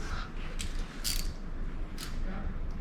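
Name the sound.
7/16 socket ratchet tightening bolts on Jeep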